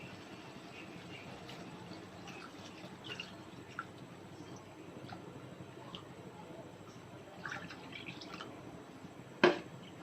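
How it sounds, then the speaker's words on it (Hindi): Milk being poured into a pot of boiling seviyan vermicelli, a soft steady liquid splash and drip over a low kitchen hum, with a sharper clatter near the end. "अब हम इसमें ऐड करेंगे मिल्क, ऐड कर देंगे 1 kg"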